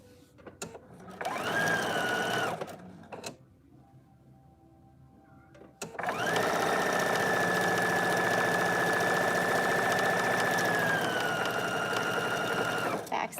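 A sewing machine stitches a shift dress seam in two bursts: a short run of steady whirring, a pause with quieter background, then a long, loud continuous run close by.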